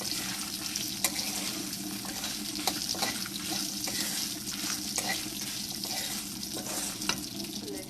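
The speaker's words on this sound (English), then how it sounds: "I'm just sauteing this in this mandis" Chutney ingredients sautéing in a pan with the stove switched off, giving a steady broadband frying hiss with occasional soft clicks of stirring and no talk.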